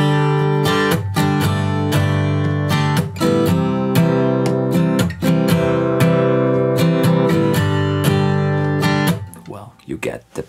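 Guitar plays the intro of a song, steady strummed chords with sharp repeated attacks for about ten seconds, close and loud, fading near the end.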